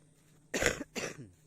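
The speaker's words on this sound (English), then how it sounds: "Sorry about the coughing." Two quick, close coughs from one person recovering from bilateral pneumonia, sharp and rough, with near silence around them.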